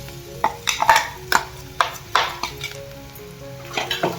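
A paste of garlic, coconut and cumin sautés in oil over a mustard-cumin tempering, with a soft sizzle under repeated sharp scrapes and taps of a spoon against the pan, close by and without talk.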